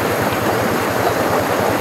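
Water rushes steadily through a stream-fed canal, a continuous close, broadband gurgling wash with no voices.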